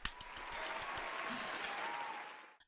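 A TV-watching audience gives a round of applause, a dense wash of clapping that holds steady for over two seconds, then fades out quickly.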